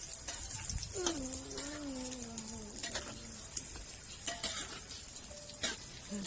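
Pork and vermicelli dumplings deep-frying in hot oil give a steady close crackling sizzle throughout, with faint bird coos and a brief voice in the background.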